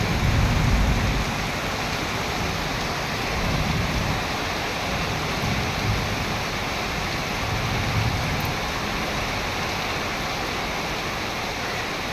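Rain falling outdoors makes a steady, even hiss that stays constant throughout, with slight low-end swells and no voices.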